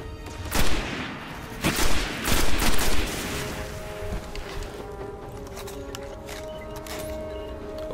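In the video game Destiny, several loud close gunshot bursts crack out early, followed by a quieter stretch of lighter shooting and footsteps beneath a faint steady tonal background.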